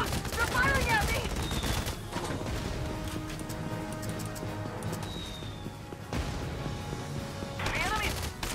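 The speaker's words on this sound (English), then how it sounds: "They're firing at me!" Gunfire rattles through a battle in the video game Valkyria Chronicles 4, with dense bursts of shots over a steady backdrop of game sound and a short pause midway before the firing picks up again.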